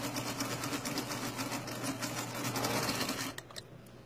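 Singer Featherweight sewing machine stitching a quarter-inch seam in fabric, a steady, rapid mechanical whir and clatter running continuously, then stopping abruptly near the end.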